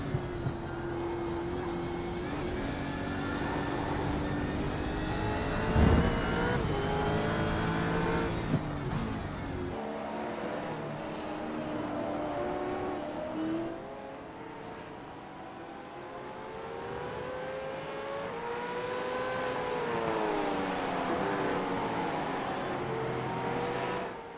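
Supercar race cars, including a Red Bull supercar, scream around the Winton circuit with rising and falling engine notes as they accelerate and pass, heard loud and continuous with a shift to a more distant engine tone midway.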